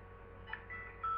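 A phone gives short electronic beeps, a couple of brief tones over a quiet steady hum, ending in a slightly longer, louder tone.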